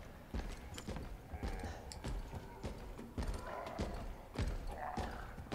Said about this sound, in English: I do believe that's the sound of Mr. X stomping after me.